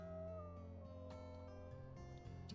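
A wolf howls in the WolfQuest video game, a long, sustained, wavering tone held steady throughout at moderate volume, with a second howl layered underneath and no speech.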